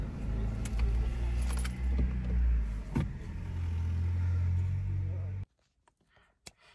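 Close idling rumble of a Škoda Fabia 1.4 MPI engine with keys jangling at the ignition, then the engine is switched off and cuts to near silence, leaving a few faint clicks and rattles.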